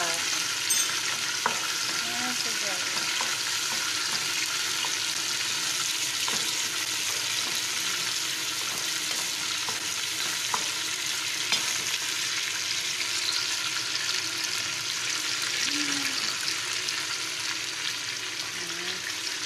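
Garlic and ginger sautéing in a hot pan, with a dense, steady sizzle throughout and occasional light stirring clicks, close and continuous with no talking.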